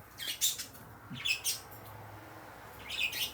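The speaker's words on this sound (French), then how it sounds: "Ils sont belles les oiseaux, hein?" Birds chirp outdoors in short, bright tweets and squawks that come in small clusters, moderately close, over a soft steady background hum.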